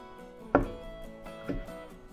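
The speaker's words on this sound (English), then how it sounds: "if you slice, thinly slice." A knife thinly slices ingredients for Japanese mixed rice: two distinct taps on a cutting board about a second apart, close but fairly quiet, with no talking.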